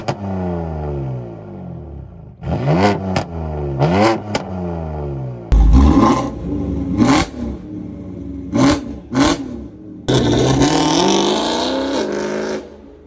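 A BMW car engine and exhaust rev hard and loud up close, repeated rising and falling throttle blips with sharp cracks and pops, ending in a long sustained roar.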